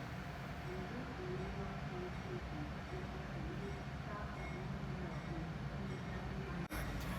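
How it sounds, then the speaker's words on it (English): Amtrak locomotive 129 on the Cardinal route rumbles steadily nearby as it moves into position, a continuous low mechanical drone with a brief sharp knock near the end. "It looks like our engine, 129, is taking over the spot where 643 was"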